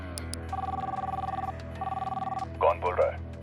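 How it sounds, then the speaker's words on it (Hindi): A phone ringing back twice in steady, close-sounding electronic bursts after a number is dialed from a second phone, followed by a brief voice picking up. "उसने एक दूसरे फोन से मुस्तफा का नंबर डायल किया।"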